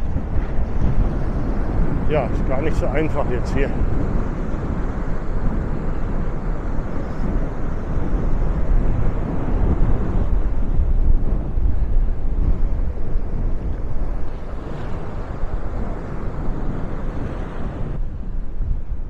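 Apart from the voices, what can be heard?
wind on beach at Maspalomas, Gran Canaria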